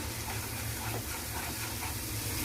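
Onions fry in a pan, giving off a soft, steady sizzle with no breaks, faint and close.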